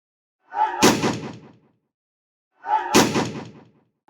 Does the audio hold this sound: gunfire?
yes